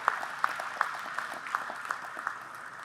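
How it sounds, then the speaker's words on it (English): Applause from a convention audience for standing committee members: a steady, fairly quiet wash of clapping with a regular pulse of sharper claps running through it. "Give them a round of applause for the great work they did yesterday"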